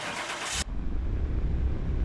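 A car engine starts up in Car Mechanic Simulator 2021 after a rebuilt junkyard car gets an ECU tune: a harsh cranking burst gives way to a steady, loud low idle rumble, with no talk over it.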